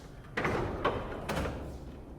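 Wooden shop cabinet drawers sliding open and shut three times in a row, each a short rumbling glide with a soft thump, moderately close with a steady room hum behind.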